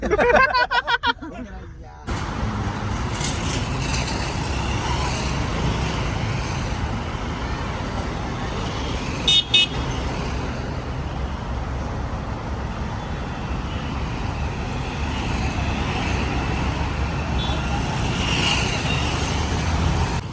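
Steady, dense rumble of a night-time traffic jam in Dombivli, India, with engines idling and moving, continuous throughout, with a brief louder clatter near the start.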